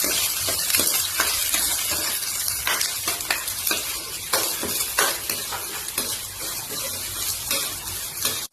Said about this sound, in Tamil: அதுக்கப்புறம் வெங்காயம் கருவேப்பிலை போட்டு இப்போ வதக்கிக்கலாம்